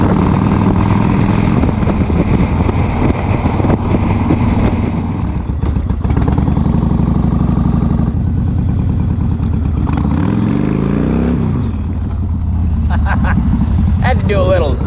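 A 2004 Yamaha XV1700 Road Star Midnight Edition, a big-engined cruiser, rumbles steadily while riding, with a loud continuous low drone that rises and falls in pitch as it pulls through the gears, under occasional talk from the rider.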